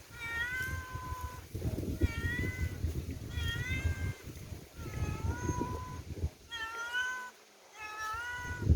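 A cat on a farm meows repeatedly in loud, drawn-out cries, about six in a row at fairly even intervals, over a low background rumble.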